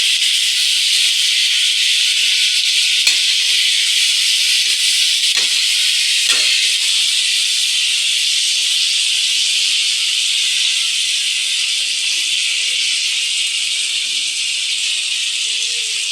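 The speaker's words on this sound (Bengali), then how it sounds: "দিয়ে আমি এবার এগুলো একটু গ্যাসটা সিমে করবো, করে আমি এগুলো একটু জাস্ট নেড়ে চেড়ে নেব।" Chicken sizzles in a pan over low gas while being stirred, a steady bright hiss with a few faint scraping clicks, close and continuous with no talking.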